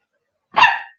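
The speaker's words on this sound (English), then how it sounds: "So you hear the dog, don't judge her. It's what dogs do. They bark." A single short bark from a dog, fairly close and clear, against otherwise silent surroundings.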